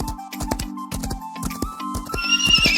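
A horse used for tourist riding at Kufri near Shimla clops along in a steady close rhythm of hoofbeats, then breaks into a high whinny toward the end, with no one speaking.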